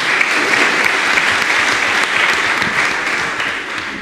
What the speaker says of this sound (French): Vous pouvez vous applaudir également.